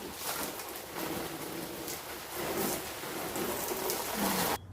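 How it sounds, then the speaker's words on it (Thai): Garden hose spray showering avocado trees in front of a house, a steady hiss like rainfall, with birds cooing and calling softly over it and the spray cutting off abruptly at the end. "เวลาเรารดน้ำต้นอะโวคาโดที่หน้าบ้านนะคะ นกก็จะมา"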